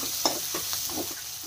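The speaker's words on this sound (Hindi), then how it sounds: "अब इसी समय हम हरी मिर्च डाल देंगे। इसको भी हम हल्का ही फ्राई करेंगे।" Green chilies fry with lightly browned onions for a bitter gourd and chana dish, making a steady near sizzle with quick scraping stirs and small spatters, with no voices.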